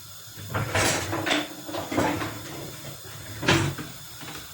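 Dishes are unloaded from a kitchen dishwasher close by, with a handful of irregular clinks, clatters and knocks spread over a few seconds against a quiet room.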